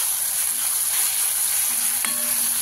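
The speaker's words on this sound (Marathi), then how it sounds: "आता थोडंसं हलवून घेऊ याला, जरा लालसर होईपर्यंत." Besan zunka frying in a pan with green chillies, a steady close sizzle with a brief scrape of stirring partway through, no voices.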